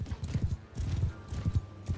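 Horses gallop in the Bannerlord battle game, a close, rapid rhythmic thudding of hooves repeating in quick bursts, loud and unbroken by talk.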